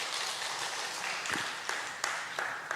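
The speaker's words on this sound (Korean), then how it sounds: "우리 하나님께 영광의 박수를 올려드리겠습니다." Church congregation applauding after a prayer at a special early-morning prayer service, a steady broadband wash of clapping with a few sharper claps standing out, moderately quiet and with no talk over it.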